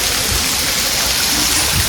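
Dense, steady spray of falling water from the artificial rain fountain at Bin Badal Barsat garden in Udaipur, a loud continuous hiss and patter close by, with no talking.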